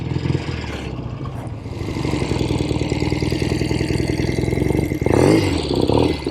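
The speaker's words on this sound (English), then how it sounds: "I love the sound. I can't believe those are original pipes. 1970 Royal Enfield Interceptor Mark II." A 1970 Royal Enfield Interceptor Mark II, freshly tuned with new carburetors and original pipes, runs loudly up close with a steady throbbing idle that swells into a brief rev near the end.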